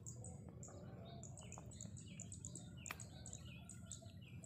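Munia birds in a rice field, repeated high thin chirps and tweets scattered across the clip, faint and distant over a low steady background hum.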